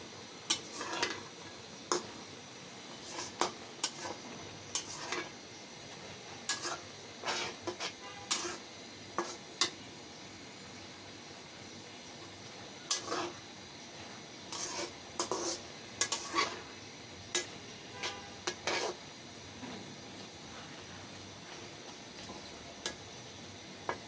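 Rice cooking in a pot being stirred with a utensil, giving scattered soft scrapes and light metallic ticks at irregular intervals against a quiet kitchen background, with no talking.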